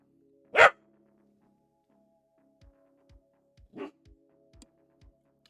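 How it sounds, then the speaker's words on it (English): A dog gives one sharp, loud bark, then a second, softer bark about three seconds later, each standing out against quiet surroundings with faint soft thumps in between. "You have barked enough."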